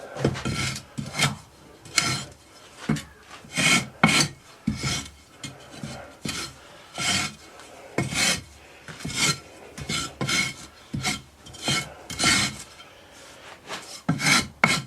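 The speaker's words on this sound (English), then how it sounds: "Strip it off flat, scrape it flat." A tool scrapes casting sand flat across a foundry mould box while a pattern is being moulded for aluminium casting. It makes loud, rhythmic rasping strokes, about two each second, close up and steady for the whole stretch.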